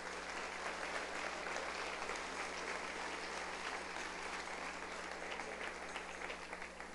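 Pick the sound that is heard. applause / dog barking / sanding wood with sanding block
applause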